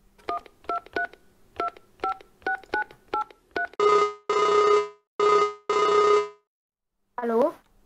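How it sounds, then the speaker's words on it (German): A phone in Farming Simulator 19 dials the dealer: a quick run of keypad tones, then several long ringing tones with short gaps, and a brief voice at the end. "Ich wollte gerade mal den Händler anrufen."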